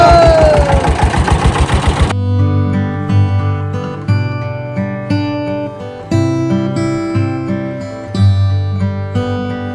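An engine on a fishing boat in the Sundarbans churns hard in a loud cranking burst, then settles into a steady thumping rhythm, close and dominant throughout.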